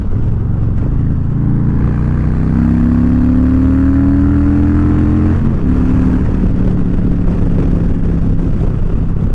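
A Harley-Davidson Low Rider S 114 fitted with an S&S exhaust pipe, its engine note loud and close, a deep throbbing rumble that climbs in pitch under acceleration, drops at a shift and climbs again.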